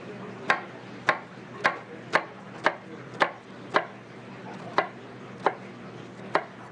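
Red onion being chopped on a cutting board for a mojito sauce, with about a dozen evenly spaced, crisp knife strikes close up over a soft kitchen background.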